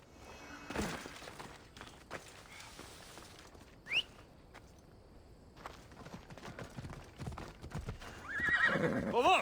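A horse in Assassin's Creed Odyssey gallops with quick hoofbeats and lets out shrill whinnies, one midway and a louder, longer neigh near the end, over faint ambient game noise.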